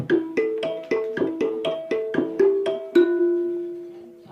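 A bright plucked mbira plays a repeating pattern of quick notes, a dozen or so plucks, ending on a ringing note that fades.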